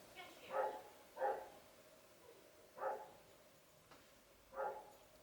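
A dog barks four times at spaced intervals, each bark a clear, moderately close burst against a quiet background.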